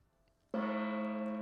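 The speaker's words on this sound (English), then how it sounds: "let me gong him" A gong sound effect played during a live stream hits suddenly after a short quiet pause, then rings on as a sustained, bright metallic tone with no speech over it.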